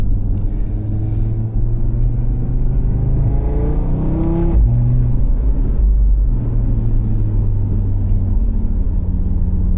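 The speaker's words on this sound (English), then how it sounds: "at higher RPMs you do get that infamous 5-cylinder sound" An Audi RS3 with its five-cylinder engine drives on rough roads, a steady close engine drone that climbs in pitch as it revs through the gears, with a brief shift near the middle, continuous and loud with no talking.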